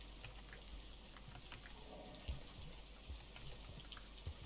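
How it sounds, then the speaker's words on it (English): Quiet, continuous water sounds in the game Rain World, soft dripping and trickling with a few slightly louder drops against a faint steady wash. "We hear sounds of water."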